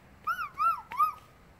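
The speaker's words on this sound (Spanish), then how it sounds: "Ay, el perrito este." Small dog whimpering in three short, high, wavering whines, close and clear against a quiet background, with no talking.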